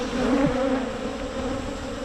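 Honeybees buzz steadily and close around an open center frame of capped brood pulled during a late-August hive inspection, a continuous droning hum with no voices.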